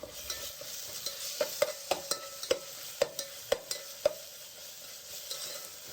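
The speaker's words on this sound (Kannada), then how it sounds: "ಶುಂಠಿ ಬೆಳ್ಳುಳ್ಳಿ ಪೇಸ್ಟ್ನ ಆ್ಯಡ್ ಮಾಡ್ಕೋತಾ ಇದ್ದೀನಿ. ಇದು ಹಸಿ ವಾಸನೆ ಹೋಗೋವರೆಗೂ ಫ್ರೈ ಮಾಡ್ಕೋಬೇಕು." Ginger garlic paste fries in a pan for chicken liver fry, a soft sizzle underneath a series of sharp metallic spatula taps and scrapes, spaced roughly every half second, no voices.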